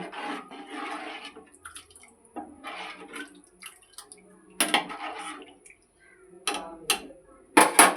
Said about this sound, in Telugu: వాటర్ వేసుకొని బాగా మిక్స్ చేసుకుందాం